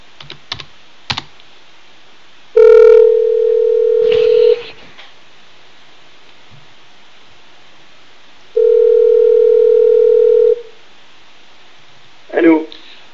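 A telephone dial tone sounds twice as a steady held tone, with short clicks and key-press beeps before and between, as in dialing a number in a studio.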